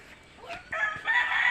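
Egg-laying hens cluck close by in a short burst, a few quick squawking calls that rise toward the end.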